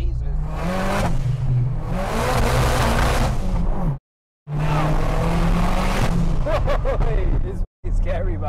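A turbocharged 502bhp Ford Fiesta ST150 engine revs hard and loud up close, with aggressive rising bursts cut by abrupt silences, and people talking around it.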